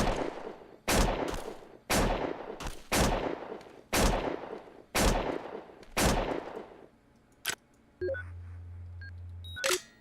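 A weapon fires in the game Neocron, seven heavy, evenly spaced booming shots roughly a second apart, loud and close, followed by a few quieter clicks and a low electronic hum.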